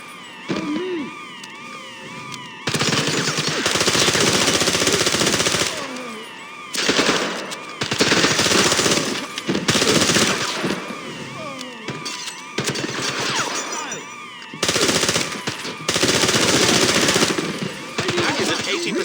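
Gunfire in the James Bond 007 Blood Stone video game: loud, dense bursts of automatic fire lasting several seconds each, broken by short lulls, with a shouted voice among the shooting.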